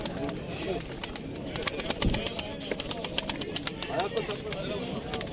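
Urfa pigeons at a busy bird market in Istanbul's Edirnekapı, cooing and fluttering close by amid scattered knocks and clatter, with people talking in the background.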